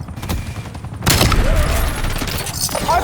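A grenade blast bursts out in a Tiny Tina's-style shooter game, a sudden loud boom followed by crackling gunfire and game noise, with a brief voice callout beneath.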